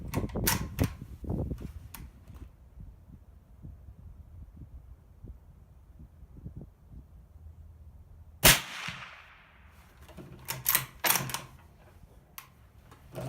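A single sharp, muffled report from a Ruger American Ranch 7.62x39 rifle with a Rugged Surge 762 suppressor in long 9-inch configuration cuts through a quiet outdoor background, followed by scattered clicks and rustling handling noises.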